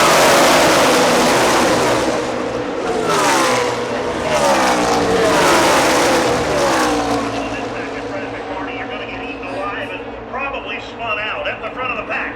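NASCAR stock cars race at Talladega in the late laps of the 2012 Good Sam 500, heard from the stands as a dense, roaring pack of engines that sweeps past and fades, with a commentator talking over it.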